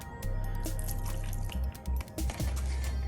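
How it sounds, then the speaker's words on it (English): F-Bomb wheel cleaner glugs and splashes as it is poured into a wheel cleaning bucket, with dripping and trickling in uneven spurts. "Now you can pour some of this into your wheel cleaning bucket"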